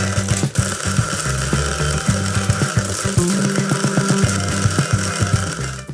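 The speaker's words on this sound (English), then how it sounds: "Close the blender" A blender crushes ice cubes with espresso and a scoop of vanilla ice cream, a loud close motor whir broken by rapid rattling knocks as the ice chunks hit the blades.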